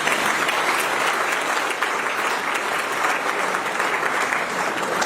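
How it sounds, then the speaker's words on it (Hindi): Audience at a spiritual discourse clapping together in a hall, a loud, even, continuous burst of applause that holds steady from start to finish with no speech over it. "सब लोग अपने लिए ताली बजाएं।"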